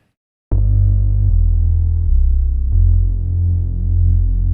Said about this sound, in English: So synth basses, for those of you that really don't know, kind of sound like this.